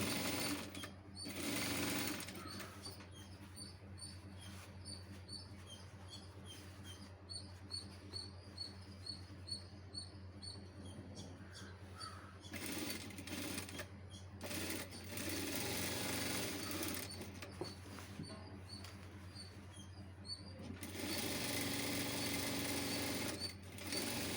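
A sewing machine stitches the shoulder seam joining the front and back panels of a school uniform collar-neck top, running in loud bursts separated by short pauses, alone with no talk.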